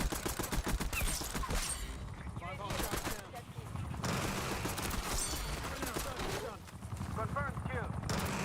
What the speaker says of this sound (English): The Tanto is quite an interesting weapon because you physically can't miss because the rate of fire is so slow.